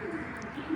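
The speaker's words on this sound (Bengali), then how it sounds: "আমি একটা কবুতর দেখাই, একই ঘরের কবুতর।" Breeding pigeons in a breeder's loft give soft, low coos, faint and close, over a quiet room hum.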